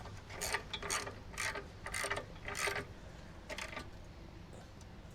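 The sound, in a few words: torque wrench ratcheting while tightening e-bike rack bolt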